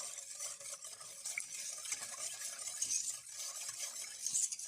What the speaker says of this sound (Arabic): راح نحركهم على البارد